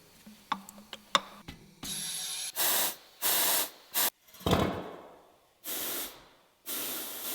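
Oil sprayed into a broken upsetter machine in a workshop: a few sharp ticks and clicks, then several short hissing spray bursts of about half a second each, separated by brief silences, close and fairly loud.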